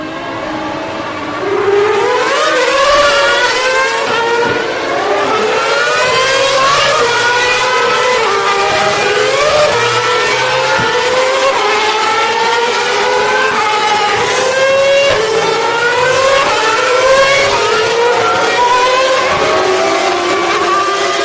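Racing cars roaring past at a motorsport event, recorded so loud the audio overloads; dense, continuous engine whine with sweeping, overlapping pitch rises and falls as several cars accelerate and pass, harsh and close with no speech.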